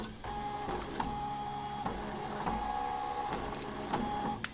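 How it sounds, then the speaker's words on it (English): A Ricoma MT-1501 embroidery machine runs its trace routine around the design on the number 1 needle, giving a steady mechanical whir and hum with a faint tonal whine and recurring clunks as the hoop shifts, close and continuous. "now whenever I click trace, it's going to trace the number 1 needle"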